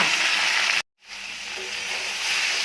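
Raw plantain pieces dropped into hot oil produce a loud, continuous sizzling hiss that cuts out for a moment and then resumes.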